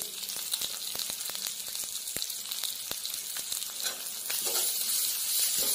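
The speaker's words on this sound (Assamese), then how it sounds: "পিঁয়াজখিনি অকণমান ভাজা হৈ গৈছে আৰু এতিয়া অলপ আদা নহৰু দিম" Onions fry in a pan as ginger and garlic go in for a jackfruit curry, giving a steady close sizzle broken by sharp clicks of stirring and a louder burst of frying toward the end.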